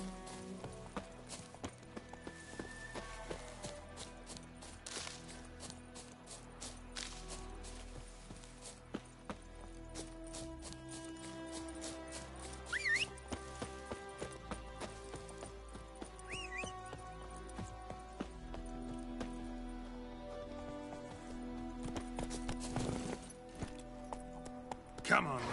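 Hooves of the horse Roach in The Witcher: Wild Hunt video game, a steady clip-clop under game music, with a voice talking over it.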